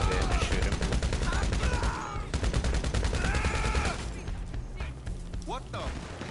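Video game gunfire during a security contract mission: sustained loud rapid automatic bursts with dense overlapping shots, easing off near the end as other game effects come in.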